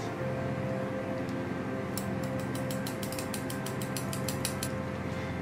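Hair scissors snipping split ends on bleached high-tone pink-mauve hair: a quick run of crisp, close snips over a steady background hum.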